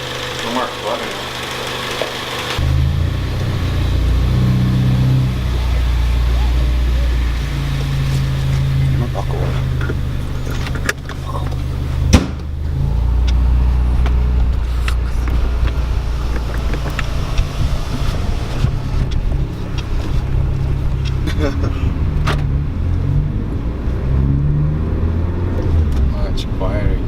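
A Ford Focus ST with its Steeda sound symposer removed drones steadily from inside the cabin, a low continuous engine hum with road noise while people talk over it.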